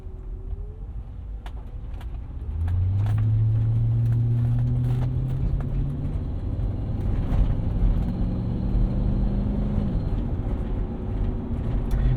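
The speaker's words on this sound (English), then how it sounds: "That is a good sounding V8, even at low RPMs" A 2000 Mercedes-Benz ML55 AMG V8 with a mid muffler delete burbles at low RPM, deep steady engine and exhaust drone from inside the car that swells as it pulls away, with gear changes and no talking.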